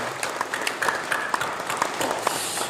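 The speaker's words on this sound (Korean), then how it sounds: "박수로 격려해 주시기 바랍니다." Church congregation at a Korean Full Gospel Sunday service applauding, a steady broad wash of clapping from many hands with faint voices mixed in throughout.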